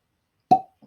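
A bourbon whiskey bottle being uncorked, giving a single sharp hollow pop up close, followed by a faint tiny knock.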